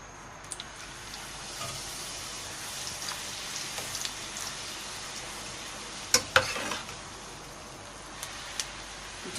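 Puri dough fries in hot oil in a kadhai over a high flame, giving a steady close sizzle with a few sharp crackles and pops scattered throughout, and no talking.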